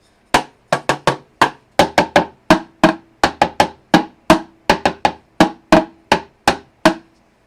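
A hard wooden dowel used as a mallet strikes in a quick series of about twenty crisp, sharp taps, close and loud, each ringing briefly before the next, in a loose, uneven rhythm with no talking.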